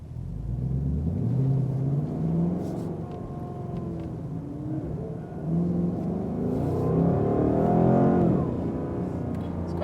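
Car engine during a hot lap with F1 driver Max Verstappen at the wheel, a loud continuous rumble with rising and falling revs through the lap, steady and close throughout.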